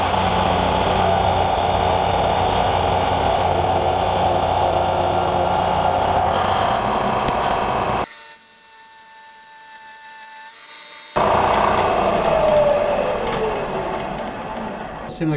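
A milling machine takes a heavy cut in raw steel for a drill press vise, a loud, dense grinding roar that drops away to a quieter whine for a few seconds, then resumes at full strength.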